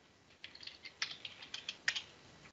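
Quiet, close clicks of typing on a computer keyboard come in an irregular string of light keystrokes, with a few sharper taps standing out.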